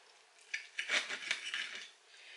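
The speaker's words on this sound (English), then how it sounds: "wait, let me cut a piece" Knife and fork working through a piece of cooked lamb chop on a plate, several faint light clinks and scrapes clustered together in a quiet room, with no speech.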